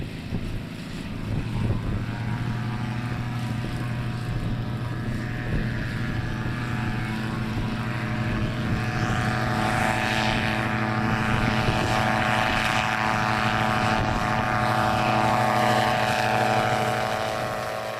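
An AgustaWestland AW169 helicopter drones steadily on a test flight, a continuous loud rotor and turbine hum that swells slightly toward the end, with no talking.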